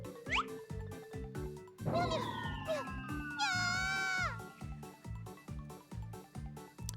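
A cat meowing in a visual novel video game: several drawn-out, wavering meows over a looping background music track with a steady bouncy beat, moderately faint.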